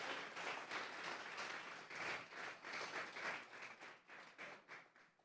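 A church congregation claps as an offering of praise during a worship service. The clapping is faint and distant, a steady rhythmic patter of many hands that continues throughout without speech.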